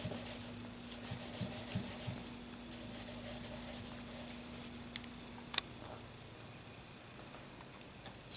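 A Blum plane blade is rubbed back and forth on a sharpening stone in a jig, a soft, steady scraping close by with a faint hum beneath and a few small clicks toward the end.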